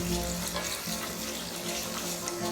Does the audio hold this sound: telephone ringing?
no